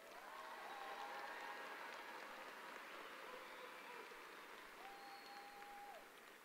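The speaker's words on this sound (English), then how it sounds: "Let's give them a round of applause." A large high school graduation crowd in the stands applauds the graduating students, a dense, steady wash of clapping heard from a distance that lasts several seconds with a few faint tones over it.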